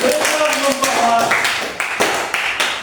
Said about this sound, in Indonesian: Kita beri tepuk tangan kepada kelompok 2.